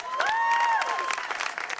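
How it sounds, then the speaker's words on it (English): An audience at a live comedy show claps briefly, steady applause with some cheering mixed in, fairly close and moderately loud. "Give him a round of applause, please"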